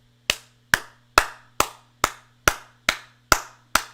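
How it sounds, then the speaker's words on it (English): Eight slow, evenly spaced single hand claps ring out alone in a quiet room, each sharp and close with a short decay, forming a deliberate golf clap. "give you the golf clap"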